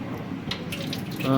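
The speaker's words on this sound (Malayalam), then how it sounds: "പൈപ്പിൽ നിന്ന് വെള്ളം വരുന്നുണ്ടോ എന്ന് നോക്കാം" A tap in a passenger train bathroom runs briefly, giving a soft, steady splash of water under the noise of the moving train.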